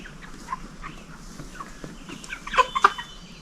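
Chickens raised on a small family farm cluck in short, scattered bursts over quiet background, with a louder cluster of close clucks near the end and no talk.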